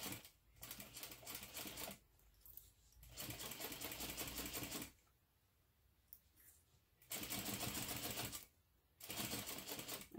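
Sewing machine stitching a crossover clutch bag beside a stabilizer piece, in several steady mechanical bursts of a few seconds each, separated by pauses, fairly close and with no talk.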